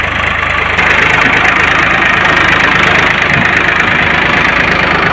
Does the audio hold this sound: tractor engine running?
yes